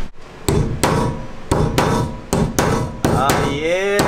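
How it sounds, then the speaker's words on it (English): Sharp, loud hammer blows flatten metal rivets on a school bus floor, about eight in a steady, slightly uneven rhythm, each with a ringing metallic decay. "I'm gonna see if I can just hammer these up"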